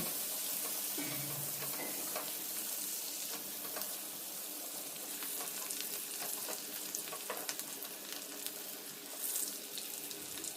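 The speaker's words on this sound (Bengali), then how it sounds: "এখন এই পেঁয়াজটাকেও তেলের সাথে হালকা একটু সফট করে ভেজে নিতে হবে" Chopped onions fry in oil in a pan, a continuous soft sizzle with scattered crackles and light stirring, steady and fairly quiet throughout.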